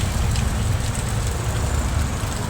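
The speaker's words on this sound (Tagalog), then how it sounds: "Lakas ng ulan." Heavy rain pouring down on a highway, a dense, loud and steady hiss with a low rumble beneath, continuous throughout with no talking.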